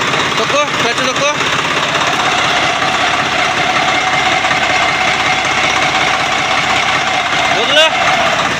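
A motorbike engine runs at a steady loud idle with a constant throbbing rumble, a few brief squeaks and clicks early on, and people talking near it.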